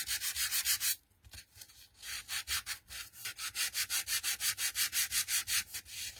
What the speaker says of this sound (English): get an emery board, or you can get little crafting sand blocks